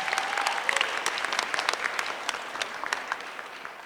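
A fairly distant audience applauds finalist teams and judges at a university pitch-competition final, steady crowd clapping with sharp individual claps standing out throughout.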